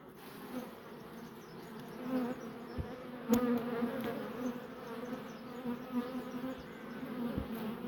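Honey bees hum steadily around an open beehive during a frame inspection, a dense droning buzz with a few brief knocks and clicks, close and continuous throughout.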